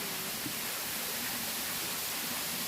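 Than Thip waterfall, a natural site in Nong Phok, Roi Et, gives off a faint, even rush of falling water, a steady hiss with no pauses.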